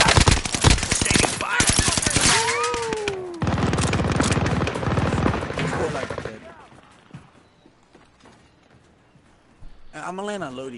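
Rapid automatic gunfire in a battle royale video game, loud dense bursts of shots in the first half that fade toward the end, with game voices and a player talking over them.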